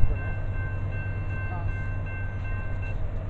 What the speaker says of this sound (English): CSX local or mixed freight Q300 or CSX F778 coming